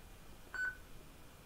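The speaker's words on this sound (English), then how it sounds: "And she'd have a little beep there." A single short electronic beep sounds once as PCLinuxOS 2010 boots on a computer, brief and clear against a quiet background.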